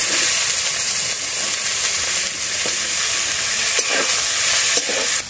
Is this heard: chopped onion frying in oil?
yes